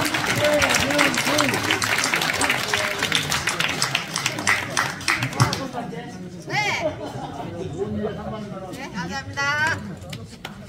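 Applause from the audience at a badminton club's anniversary and president inauguration ceremony, clapping mixed with crowd chatter and talking voices, busiest at first and then thinning under continued speech.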